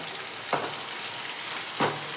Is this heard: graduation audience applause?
no